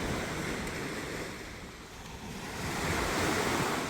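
Sea waves breaking on the beach at Torquay on a rainy day, a steady washing surf that dips slightly midway and swells again, with some wind buffeting the microphone and no talk.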